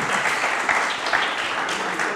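An audience at a youth entrepreneurship conference in the DRC breaks into dense, sustained clapping that carries evenly throughout with no pause.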